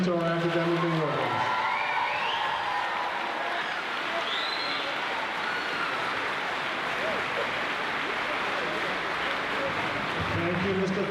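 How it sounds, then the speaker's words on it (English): Sustained audience applause with scattered cheers and whoops fills a middle school moving-up ceremony hall, steady and dense throughout, with a few voices audible at the start and end. "Another big round of applause"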